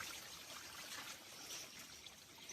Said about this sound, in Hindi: ये पानी फूट गया है 2 दिन की बारिश की वजह से